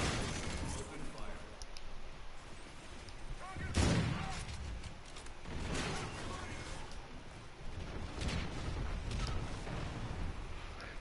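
Gunfire from a minigun and a sniper rifle in the shooter game Call of Duty: Infinite Warfare, a dense, continuous battle mix of shots and mechanical clatter with a louder burst around the four-second mark, while players talk over it.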